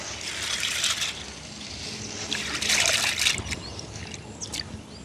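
Water is poured off while washing grain in a village, draining away the floating bad grains; a trickling, splashing pour comes in uneven bursts, fairly close, with a light background hiss.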